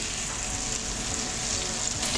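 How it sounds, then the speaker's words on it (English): Mushrooms sauté in a pan with a constant, even sizzle of frying, close and fairly loud throughout, with no talk. "I'm going to saute the mushrooms in here first"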